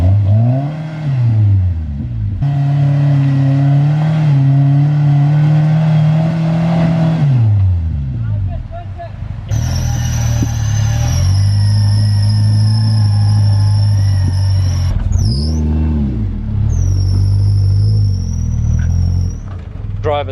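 4WD vehicle climbing a steep rocky hill on a West Coast track, engine loudly revving up and down in repeated surges with whining drivetrain tones, close and dominant.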